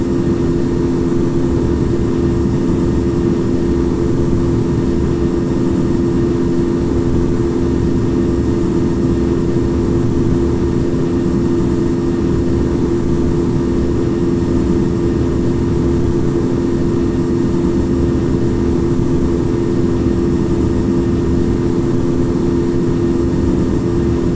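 Boeing 777-300ER engines roar steadily through takeoff in the Infinite Flight game, a loud, constant low drone with a sustained whine over it and no break.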